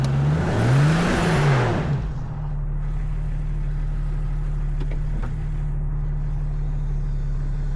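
A Jeep stuck on soft ground, its engine revving hard with a rising and falling whine for about two seconds, then settling into a steady low idle hum, close by with no talk.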